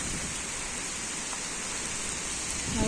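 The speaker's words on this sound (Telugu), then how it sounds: "చూడ వాన ఎక్కువైంది, ఇప్పుడు ఏం కనబడతలేదు. వాన స్టార్ట్ బాగా అయింది, గాలి కూడా బాగానే అయింది." Heavy monsoon rain with strong wind near village huts, a thick constant roar of downpour filling the whole span, steady and loud with a slight swell at the end and no talk.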